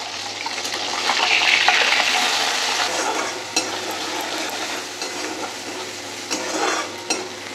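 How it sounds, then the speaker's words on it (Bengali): Bele fish fry in a pan with a steady, fairly loud sizzle that swells early and then holds, broken by a few sharp clinks of a spatula or utensil against the pan. "আর বেলে মাছগুলো ভেজে নিচ্ছি।"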